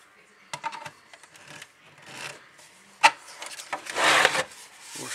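The clipped plastic front cover of a PC LCD monitor is forced open, with scraping, rubbing and creaking plastic broken by a few sharp snaps and cracks as the clips give way.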